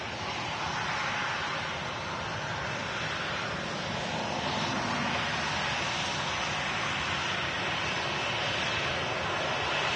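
A steady, broadband roar from an aircraft engine at Manchester Airport holds constant for the whole stretch, a distant, even rumble and hiss with no breaks.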